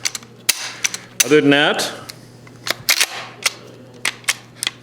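A rifle bolt on an auction-lot firearm is worked by hand, giving sharp metallic clacks and a brief scraping slide, then scattered clicks close by, with someone speaking briefly.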